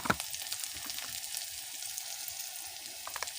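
Spices with salt, turmeric and cumin powder sizzle in a hot pan for a cabbage curry, a steady close crackle with occasional stirring scrapes and no talking.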